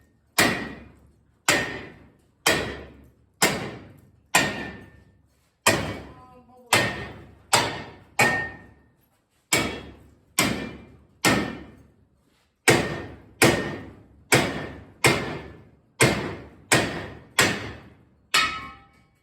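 A hammer pounds dents out of a rat rod's steel body in about twenty sharp, ringing metallic blows, evenly paced with a few short pauses.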